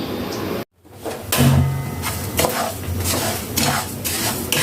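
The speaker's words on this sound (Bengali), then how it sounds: "তো এখন ভেজে নেব" Rice for chicken biryani is fried and stirred in a pot: a sudden pause, then repeated scraping and clattering strokes of a utensil against metal, with a soft sizzle underneath, fairly close.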